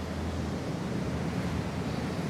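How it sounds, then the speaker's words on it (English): Rain falls in the video game Jurassic World Evolution 3, a dense, continuous hiss of downpour with no breaks or voices. "the way the rain is coming down right now"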